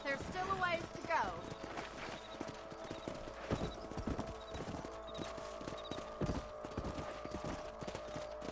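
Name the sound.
horses trotting, from the video game Red Dead Redemption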